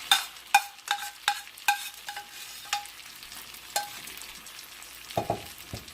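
Quick scraping stirs sorrel leaf chutney into hot tempering in a pan, with a soft sizzle underneath, sharp strokes coming in an uneven rhythm, close by.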